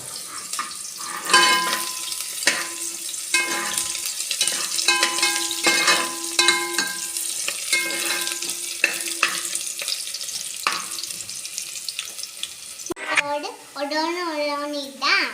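Shallots sizzle and fry in a pan for sardine (mathi) curry with tamarind water, garlic and neem leaves, stirred with repeated scraping clicks, then a high-pitched whistling sound near the end, while a voice talks over the cooking.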